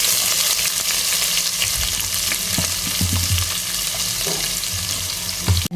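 Onions frying in hot ghee with cumin and bay leaves for a chicken keema biryani: a loud, continuous sizzle with stirring scrapes and low knocks from the pan, no talking.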